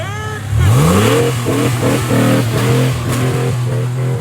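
An off-road rig with a roll cage starts up close by, its engine revving hard with a rising, climbing tone, then holding a loud, choppy, pulsing rumble as it drives off.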